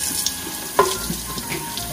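Tap water runs steadily into a kitchen sink while a new Keurig coffee maker is rinsed before first use, a close continuous splash with a brief clatter partway through.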